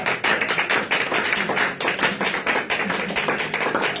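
Church congregation clapping together in a steady, dense rhythm to acclaim Jesus, many hands sounding close and loud with no voices over it.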